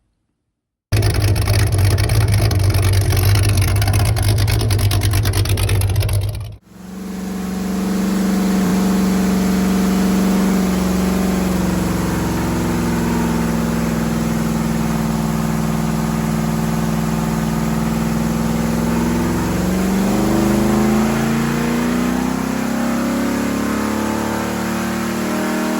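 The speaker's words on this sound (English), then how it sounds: "you've seen part of the dyno run at Christian Automotive Machine in Corinth" A 355 small-block Chevrolet V8 from a 1985 Chevrolet C10 roars loudly on a dyno at a machine shop in Corinth, Mississippi, snapping off abruptly, then rising again into a long, sustained high-rpm pull with a gradual climb in pitch.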